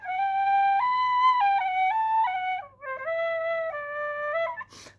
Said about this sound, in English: So this is a kind of a neat little whistle.